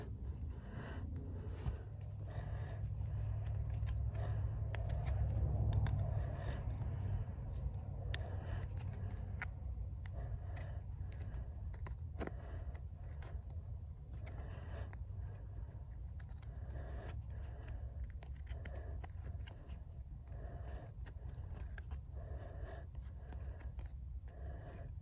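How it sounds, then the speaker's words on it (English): Scissors snip repeatedly around the edge of a sheet of material for a custom Cobb Vanth black series speeder, a soft steady rhythm of close, quiet cuts and rasping with a low hum underneath. "Cutting it about every 1/4 inch so I could fold over the edge"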